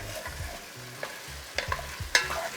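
Chicken fries in a pan with ginger, garlic and green chili paste, giving a soft, steady sizzle marked by several sharp crackles and stirring scrapes that grow louder toward the end.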